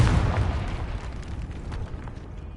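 An explosion in the video game Hogwarts Legacy, set off by the Confringo spell, gives a loud booming burst that rolls away into a rumbling, crackling decay.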